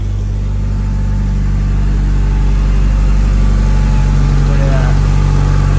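Honda Accord engine idling just after a timing belt and water pump replacement, a loud, steady low hum close by, with a brief voice speaking over it.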